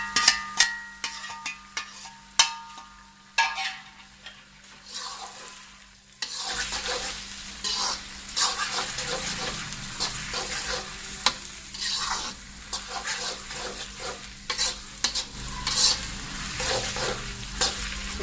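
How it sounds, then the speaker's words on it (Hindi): Tomatoes with ginger-garlic paste are fried and stirred in a pan for Peshawari mutton karahi. Clattering stirs come first, then a steady loud sizzle runs to the end, with no talking. "थोड़ा सा इसको भूनिए बस टमाटरों को"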